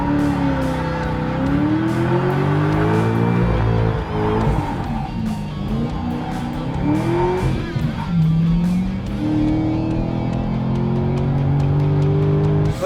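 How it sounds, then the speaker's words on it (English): A Corvette Z06 doing a brake stand burnout roars loudly and continuously, engine revving up and down while the rear tires squeal and scrub, the screech rising and falling under the sustained engine howl. "Time for a good old brake stand burnout."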